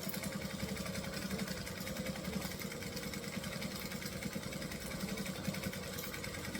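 A sewing machine stitches fabric with a steady, fast, even mechanical whir, faint and continuous throughout, with no voices.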